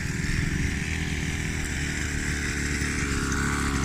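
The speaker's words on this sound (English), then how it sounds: "Go steady on that throttle on that one, Levi." A 50cc mini moto engine revs loudly and steadily close by, a rough buzzing drone that holds with little change through the short stretch.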